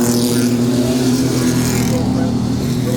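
Mini truck racing engines roar at Midvale Speedway during a heat race, a loud steady drone with a car passing, under an announcer's continuous commentary.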